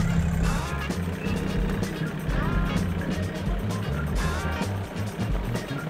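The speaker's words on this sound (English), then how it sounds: "the horses can hear the tractor" A tractor engine rumbles low and steady as it drives into a field toward horses, a continuous mechanical drone with some faint background sound over it.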